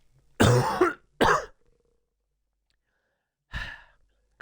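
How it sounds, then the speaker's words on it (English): A person at a Snetterton race day coughs hard twice in quick succession, close and loud, then after a pause gives one more shorter cough. "Coughing me guts."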